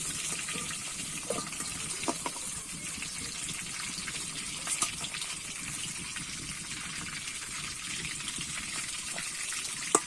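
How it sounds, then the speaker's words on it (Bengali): Slices of pointed gourd (potol) fry in hot oil with a steady, soft hiss and scattered small pops and crackles, heard close with no talking. "সেরকমই ভেজে নেবো পটলগুলো"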